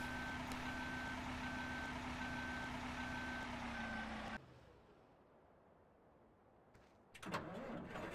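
Truck reversing beeps in the Farming Simulator 2013 farming game, a steady repeating series of evenly spaced tones over a loud engine drone for about four seconds, then the engine drops to a low idle before revving again.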